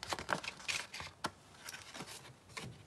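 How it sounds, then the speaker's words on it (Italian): Scissors cut paper for an Easter cart craft, producing quiet, close, irregular snips and crisp crinkles with short pauses between them. "La tagliamo con le forbici."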